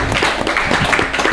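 Studio audience applauding at a regional talk show in Sleman, a dense, steady wash of many hands clapping for just over a second, fairly loud and close with no talk on top.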